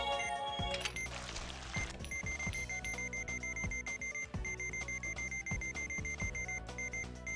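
A medical monitor alarm from the surgery game Trauma Center: New Blood sounds as a steady run of high electronic beeps, repeating over busy game music at an even level throughout.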